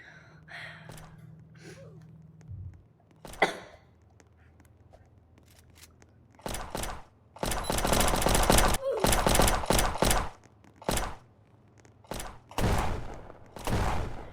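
Loud bursts of rapid video-game gunfire in several volleys, separated by short quiet gaps, with a breathy gasp near the start.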